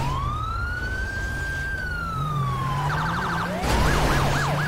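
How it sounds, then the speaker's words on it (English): A police siren in the game LSPDFR wails in a long slow rise and fall, then switches to a rapid yelping pattern, steady and clear with no talking. "You hear the siren."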